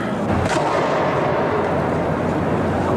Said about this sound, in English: Car just blew up.